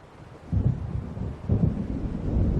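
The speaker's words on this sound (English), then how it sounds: "It seems there's a storm coming." Low rumbling thunder from a storm rolling in, in Alan Wake Remastered, swelling in two heavy surges over a faint rain-like wash, fairly loud with no voices.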